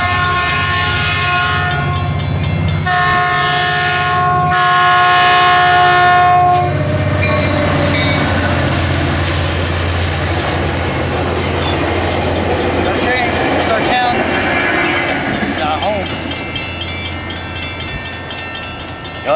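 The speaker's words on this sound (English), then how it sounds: "You'll have the probably 3:30 Metrolink going through right now. Here it comes." A Metrolink commuter train passes Chatsworth station, its loud horn blasting in long held notes before the rumble and clatter of cars rolling by nearby fills the rest.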